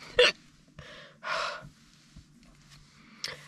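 Hiccups from someone pausing at an ocotillo patch in Joshua Tree National Park: three or four sharp, close, fairly loud jerky catches of breath spread across a few seconds, with quiet gaps and faint background hum.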